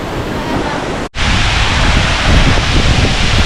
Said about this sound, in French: Voilà la cascade les gars.